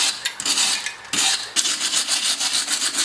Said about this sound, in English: we're gonna clean out this hole in the surface a little bit with the wire brush